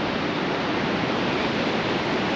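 Ocean surf rolling onto a beach at Golden Beach on South Australia's Eyre Peninsula, a steady broadband wash of breaking waves with constant roar and no distinct pauses, loud and continuous with no voices.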